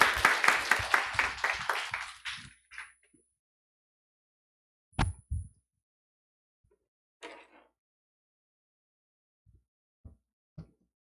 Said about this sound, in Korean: 다시 한번 고연희 교수님한테 박수 부탁드립니다.